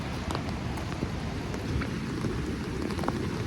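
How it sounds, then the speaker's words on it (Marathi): Steady rain falls hard and close on an umbrella and the ground during a mountain ghat road trip, a dense continuous hiss with scattered drop pops and no talking. "नको पाऊस पडतोय."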